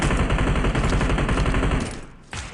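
Rapid automatic gunfire in PUBG Mobile rattles out as one loud, dense burst for about two seconds, then cuts off briefly before a final shot.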